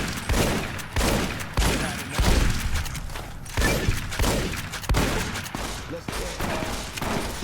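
Rapid bursts of gunfire from the video game Fallout: New Vegas, loud and sustained in repeated volleys, with a voice talking faintly underneath.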